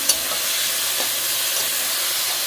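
Drumstick (sahjan) pieces being stirred as they fry in hot oil left over from frying fish, giving a steady dense sizzle and hiss with faint scraping stirs, close and continuous with no talking.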